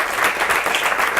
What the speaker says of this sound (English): round of applause for Geoff Warner.